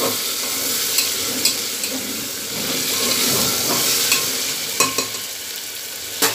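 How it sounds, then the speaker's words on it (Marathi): Potato pieces and tomato fry in a pan while a spoon stirs them, a loud close sizzle broken by scraping strokes and occasional taps against the metal. "बटाट्याच्या फोडी मी केल्या होत्या त्या टाकून घेतल्यात आणि हे छान हलवून घ्यायचे।"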